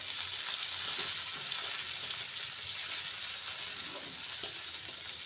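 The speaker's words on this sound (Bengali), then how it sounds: "টমেটো দিয়ে ভালো করে নেড়ে নিয়েছি" Chopped tomato stirred into a pan of fried ginger and garlic for a methi potato curry, giving a steady close sizzle with soft scraping stir sounds throughout and a brief louder scrape near the end.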